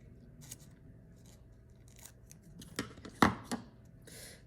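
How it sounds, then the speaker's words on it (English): Scissors snip off the corners of a sheet of tissue paper in a few quiet, irregular cuts close by, ending in one sharper snip and a soft rustle, with no talking. "I'm going to cut off the corners of the tissue paper"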